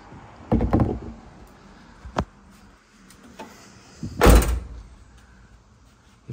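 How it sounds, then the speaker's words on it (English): The door of a 1984 Camaro Z28 with its T-tops removed swings shut, heard as several separate thuds and clunks: a muffled slam early, a sharp tap, softer knocks, then a louder final thump, close by in a quiet space. "if you close the door with the top off,"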